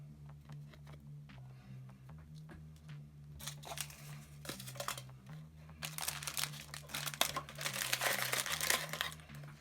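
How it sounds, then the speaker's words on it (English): A plastic silica gel packet crinkling as it is pushed back into the packaging of a Blokees Defender Wave 3 toy, with bursts of crisp rustling over a low steady hum, close and quiet, no talking. "I'm just going to put the silica packet back in there"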